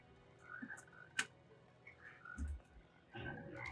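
Frogs croaking during a rain of frogs in an X-Files episode, a few scattered close croaks and chirps over a quiet background, with a soft thump partway through.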